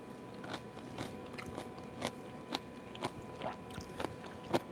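Crisp crunchy chewing of pickled ginger, close to the mic, with a steady run of sharp bites and crunches about twice a second over a low room hiss, no talking.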